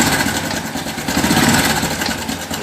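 Honda Biz 110i 2020 motorcycle engine being revved, a close, steady buzzing mechanical drone with slight rises in intensity.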